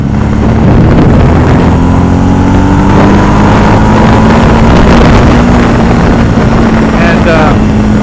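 A Ducati 749 motorcycle fitted with a Zard exhaust runs loud and close, its engine drone holding steady and slowly rising in pitch throughout.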